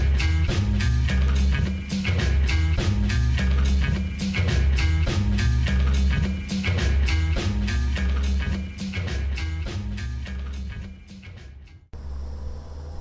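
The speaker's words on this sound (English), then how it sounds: "Taz, the taxi driver, puts on some music" Electronic DJ music played in a taxi by the driver Taz, with a steady thumping beat and dense repeated synth hits over about twelve seconds, quieter and muffled near the end before a brief cut.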